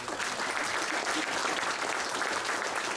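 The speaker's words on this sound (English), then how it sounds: "I think again we should give them all a round of applause" Wedding guests applauding, a steady, dense clapping from a room full of people that holds at an even level for a few seconds, moderately close, with no talking over it.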